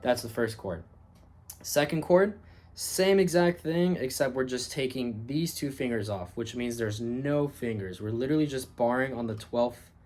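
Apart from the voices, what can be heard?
No everyday noises stand out.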